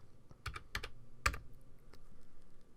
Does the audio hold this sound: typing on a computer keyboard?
yes